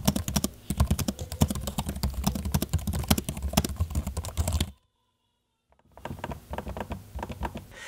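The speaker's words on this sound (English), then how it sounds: "here's a quick audio sample of me typing on the keyboard and using the trackpad" Rapid typing on an MSI GP76 Leopard laptop keyboard with scattered trackpad clicks, close and steady, then a brief silence before the clicking and tapping resume.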